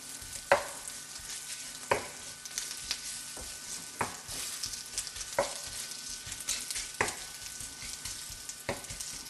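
Ham frying in saturated fat in a pan gives a steady, moderate sizzle, broken by sharp utensil taps and scrapes roughly every second or so, with no voices.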